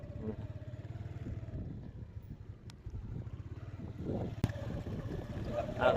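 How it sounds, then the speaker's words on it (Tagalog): A motorcycle being ridden at night gives a low, steady engine putter with a faint rhythmic pulse, fairly quiet and close, with a few scattered knocks and bumps near the end. "Nakakatakot magmaneho ng motor si Tyson tubig"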